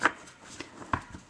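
Tarot cards being riffle shuffled and bridged, with soft papery flutters and brief snaps at the start and near the one-second mark, fairly quiet and close with no talk.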